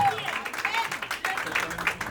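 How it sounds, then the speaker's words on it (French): Wedding guests applauding at a ceremony, a fairly loud, steady patter of clapping lasting a couple of seconds with voices mixed in underneath. "On applaudit, merci, on applaudit très fort."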